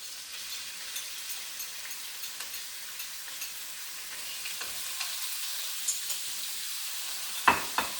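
Beef stir-fries with celery in a hot pan, a continuous close sizzle with light crackles and scattered pops, louder spits and clatter near the end, no talking.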